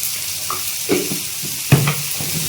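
Spices being fried and stirred in oil for homemade daal, giving a soft steady sizzle with a few brief scraping and stirring knocks, heard up close and alone.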